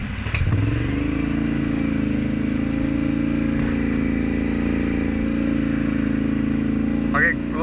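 A Can-Am off-road vehicle in two-wheel drive runs with a steady, loud engine drone at a low rumbling pitch, picking up slightly after a brief start, with a short squeak near the end.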